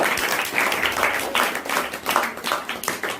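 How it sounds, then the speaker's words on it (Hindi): Steady applause from a quiz show audience, many hands clapping densely throughout without a pause. "अंजला की जोरदार तालियां।"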